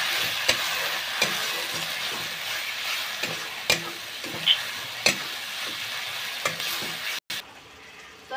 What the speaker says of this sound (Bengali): নাড়াচাড়া করে ভালো করে মিশিয়ে নেব।